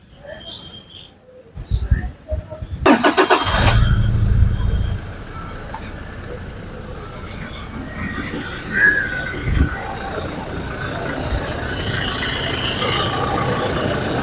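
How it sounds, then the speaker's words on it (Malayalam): A Toyota Fortuner engine with about 70,000 km cranks, catches with a loud rumbling burst, then settles into a quiet, steady idle amid faint background noise. "ഇനി നമുക്കിത് സ്റ്റാർട്ട് ചെയ്തതിൻ്റെ സൗണ്ട് ഒന്ന് കേൾക്കാം"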